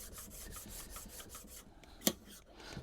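A Marples hand plane blade is rubbed on a sharpening stone with quick, quiet back-and-forth rasping strokes, followed by a single sharp click.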